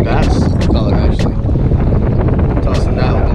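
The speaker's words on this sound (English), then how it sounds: "Sorry about the noise. This wind is horrible today." Strong wind buffets the microphone on a boat during bass fishing, a loud, continuous rough roar with gusty surges that fills the whole stretch.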